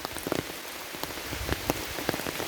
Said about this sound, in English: it's pouring down rain, but I am here on the Laurel Highlands hiking trail